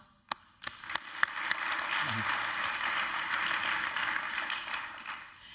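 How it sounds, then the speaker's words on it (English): An audience applauds a startup-scaling panel on a conference stage. A few sharp, separate claps come first, then they build into steady, dense clapping from a large crowd that carries on for several seconds before fading at the end. "Please give a big round of applause for my amazing panel."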